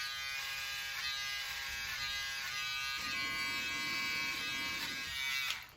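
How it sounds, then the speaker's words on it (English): A small electric hair clipper fitted with its shortest attachment buzzes steadily close by, its tone thickening partway through as it cuts into hair. "That's the smaller clipper with one attachment on, the shortest one."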